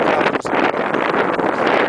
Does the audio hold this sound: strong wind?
yes